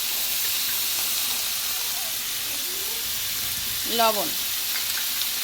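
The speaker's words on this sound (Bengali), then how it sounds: "এবার আমি পুঁই শাক আর আলুটা ভেজে নেব।" Malabar spinach and potatoes sizzling in hot oil in a pan, a steady loud frying hiss with brief stirring, and someone speaks a word over it.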